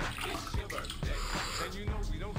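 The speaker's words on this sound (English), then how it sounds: "And then you put the water out of the bucket." Water is poured from a bucket to flush a squat toilet in a Koh Tao guesthouse bathroom, with several splashing gushes and drips into the bowl at close range.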